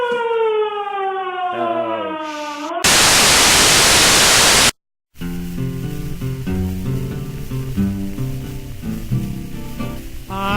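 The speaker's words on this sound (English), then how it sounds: "What is that siren?" A wailing siren sweeps up and down, cut off by a burst of loud static, then brief silence before music with a steady melody begins.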